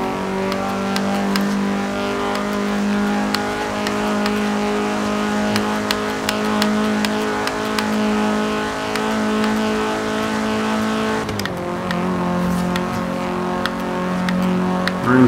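A 2016 Vauxhall Corsa VXR AWD hot hatch engine under way, a loud steady drone with a shift around the middle before the tone settles again, heard close from inside the car.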